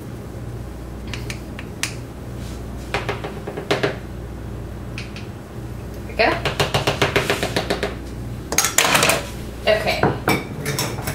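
Dishes, pots and cutlery clatter and clink in a kitchen sink while someone washes up mid-baking zucchini muffins, a steady run of sharp knocks growing busier and louder toward the end, with a brief spoken word near the start.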